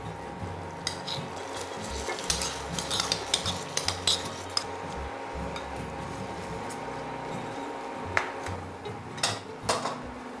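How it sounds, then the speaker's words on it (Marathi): A spoon stirs raw mango pieces into melted jaggery in a pot for sweet mango pickle, with repeated metallic clinks and scrapes over a low simmering hiss. "आता हें मेल्ट जालां गोड, तितून घालया ही तोरां."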